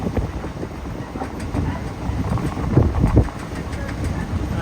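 The Sabari Express pulls into Aluva railway station in Kerala, a low rumbling train sound with wheel and engine noise swelling and fading near the platform, bursts of clatter in the middle.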